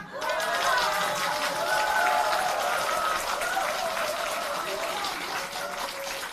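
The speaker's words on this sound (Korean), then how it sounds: "박수 이거 가지고 되겠어요?" A crowd at a community meeting with a party leader on real-estate policy in Gyeonggi Province breaks into sustained applause, a thick even roar of clapping with some voices and cheers threaded through.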